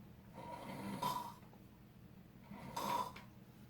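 Two slow snores, each a nasal rasping rumble on the in-breath, separated by a quiet pause, close and fairly faint.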